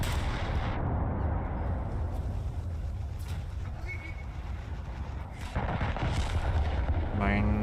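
Naval main turret guns on the battleship Fuso firing in War Thunder, heavy booming blasts over a constant rumbling engine and sea bed, with someone talking over it.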